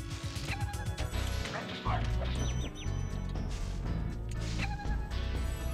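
Enemy dogs in Spyro the Dragon bark and yip among crashing and flaming game effects, rapid and busy, with background game music and someone talking over it.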